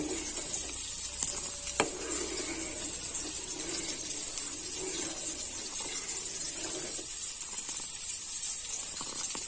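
Thick raw mango pulp mixture for aamsotto simmering in a pan, giving a steady soft sizzling hiss with faint bubbling and one sharp tap, close and alone.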